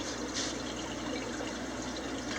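Steady water from the outflow pipe of an Eheim 2211 canister filter running in a shrimp tank, a continuous close splashing trickle with no pauses.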